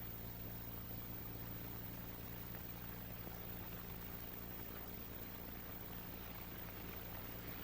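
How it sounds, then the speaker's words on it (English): Gasoline being poured into a cylinder of a WWII aircraft engine during valve-seat testing, a steady, soft liquid trickle with hiss and low hum running evenly throughout, no voices. "Now pour enough gasoline into the cylinder to test the seal of the valve faces against their seats."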